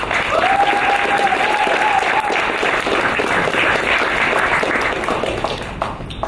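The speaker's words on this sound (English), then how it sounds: "Let's give a round of applause for all the hackers for pushing themselves beyond their comfort zones to create amazing projects." An audience at the HackSC 2023 hackathon closing ceremony claps in a dense, loud burst of applause that holds steady for several seconds, then begins to fade.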